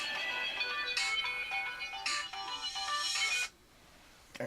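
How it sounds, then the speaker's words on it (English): An electronic telephone ringtone chirps in repeated bright bursts in a model railroad workshop, fairly close and clear, then cuts off abruptly before a faint click. "Oh, that stupid phone."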